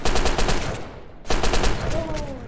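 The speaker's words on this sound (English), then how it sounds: "Where are they shooting at?" Rapid gunfire from the Delta Force video game, dense automatic bursts that are loud and close, a brief lull near the middle before the shooting resumes, with a faint whistling tone toward the end.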